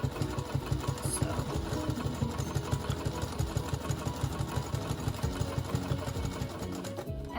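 A sewing machine set to stitch length 3 runs steadily across a quilted table runner, a fast even rhythmic clatter of needle strokes that carries on throughout before stopping at the very end, with no talk.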